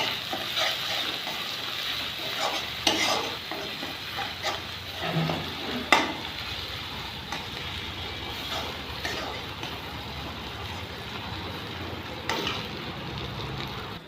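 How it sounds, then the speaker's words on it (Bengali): Grated ginger, garlic paste and whole green chillies hit hot oil with cumin tempering, giving a steady close sizzle with scattered scraping stirs and a few sharper pops, no voices. "গ্রেট করেছি আর রসুন বাটা একসাথে দিয়ে দিলাম, সাথে দিলাম 4-5টা গোটা লঙ্কা।"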